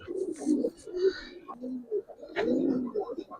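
Giribaz pigeons cooing in repeated soft low throaty phrases up close, with faint chirps and bits of nearby human voice mixed in.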